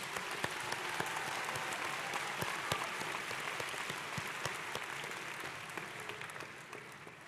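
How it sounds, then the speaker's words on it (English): A large audience gives sustained applause for graduating students at a university commencement. The clapping is dense and even throughout, a continuous crowd patter that stays loud before easing slightly near the end. "Let's have a big round of applause for all of these students."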